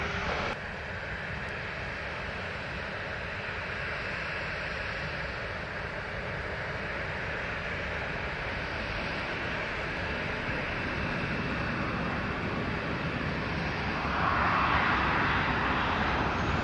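A passenger airliner landing at Montego Bay airport in Jamaica, heard as a steady broadband jet roar held at a distance, swelling slightly louder near the end, with no talk over it.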